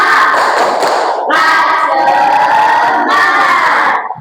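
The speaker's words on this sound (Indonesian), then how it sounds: "ayo. Tepuk semangat." A classroom of children performing a rhythmic clapping chant, with loud group claps in patterned bursts and voices chanting together between pauses.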